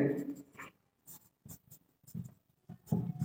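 Pen or chalk writing out notes on pollination during a biology lecture: short, faint scratchy strokes in separate bursts with quiet gaps between them.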